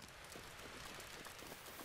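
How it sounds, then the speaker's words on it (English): Steady rain falls in Zelda: Breath of the Wild, a soft, continuous hiss of drops that stays faint and even throughout, with no talking over it. "It's raining."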